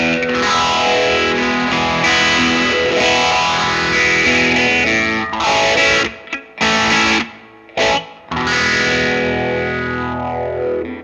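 Electric guitar strummed through overdrive with a Phase 90 phaser in front, sweeping swirl over sustained distorted chords, loud and close, with a few abrupt stops and restarts near the end.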